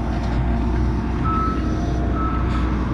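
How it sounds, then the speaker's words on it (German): A combine harvester being driven out of dust on a farm during harvest season, with a steady loud engine rumble and two clear electronic reversing beeps sounding over it. "So, Carsten fährt den hier gerade ein bisschen aus dem Staub raus"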